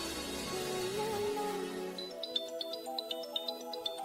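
A phone ringtone plays a repeating electronic melody of bright, evenly spaced beeps, following a brief stretch of softer music.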